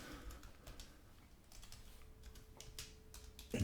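Soft, faint keystrokes on a computer keyboard as a word is typed while building a restaurant web page, a brief run of light clicks with no talk.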